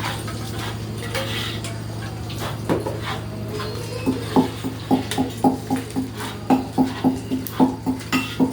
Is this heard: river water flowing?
no